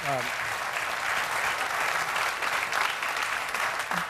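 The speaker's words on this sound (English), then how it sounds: "Oh, now we got clapping on both sides." Studio audience applause at a late-night talk show, steady dense clapping filling the whole stretch, loud and close, with a voice briefly audible at the start and end.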